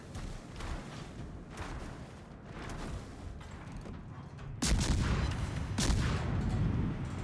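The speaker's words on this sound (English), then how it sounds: "depth charges are hitting him and got him" Depth charges explode against a submarine in a naval combat video game, heavy rumbling booms in a series, with a sharper, louder blast rolling in toward the end.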